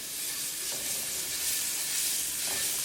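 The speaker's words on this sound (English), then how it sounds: "As the oil start to heat up, add ginger, garlic, green chili paste." Ginger, garlic and green chili paste sizzling in hot olive oil, a steady soft frying hiss with faint stirring, fairly quiet and continuous with no voices.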